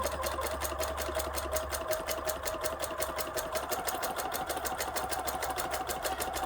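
A sewing machine stitches quilt fabric in a fast, even run of needle strokes over a steady motor hum, close and quiet with no talking.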